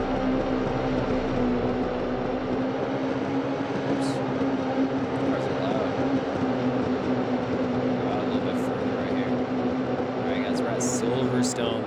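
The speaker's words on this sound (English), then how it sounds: "These cars are loud." F1 racing video game at Silverstone, with a loud steady engine drone and a constant hum throughout, plus a few brief high whines.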